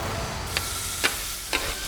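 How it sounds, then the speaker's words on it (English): Steady loud sizzling of olive oil in a hot pan, with a few brief clicks of a utensil scraping across it. "Olive oil. Listen for the sizzle."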